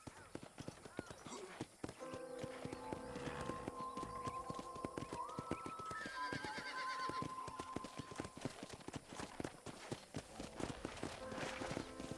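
Horses in a corral in the video game Red Dead Redemption, with soft hoof clip-clops and an occasional whinny running beneath a steady game ambience and speech throughout.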